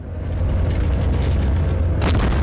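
Explosion in the Battlefield 1943 video game: a loud, sustained low rumble throughout, with a sharp, bright blast bursting in near the end.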